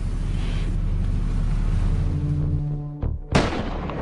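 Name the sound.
snipers firing rifles in synchronization, film scene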